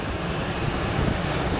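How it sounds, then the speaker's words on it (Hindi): Jet engine running at high thrust, a dense continuous roaring blast heard close and loud for a moment, with no talk. "आइए देखते हैं कि कोई जेट इंजन अपनी हवा के जोर से कैसे एक कार को उठा के फेंकता है।"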